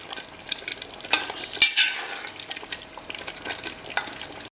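Nearly tender mutton and cooked masala frying together for Mysore mutton curry, with a continuous sizzle and bubbling crackle under repeated close stirring scrapes in the pot, and no talking.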